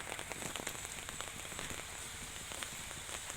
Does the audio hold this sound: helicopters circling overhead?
no